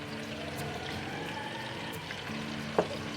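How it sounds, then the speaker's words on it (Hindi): Ground onions frying in oil in a pan, a steady low sizzle with faint humming tones and one brief clattering tap near the end, moderately quiet, with no talking. "इसमें ये 2 प्याज जो मैंने ग्राइंड किए ये डालती हूँ। इसको हम अब अच्छी तरह भून लेते हैं।"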